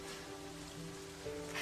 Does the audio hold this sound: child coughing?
no